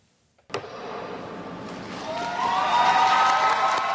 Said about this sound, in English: The COP30 climate summit in Brazil ended with cheers and applause